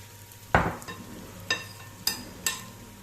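Onions fry in a pan for a beef mirchi masala while being stirred, giving a soft background sizzle broken by four sharp scraping strokes of a spoon.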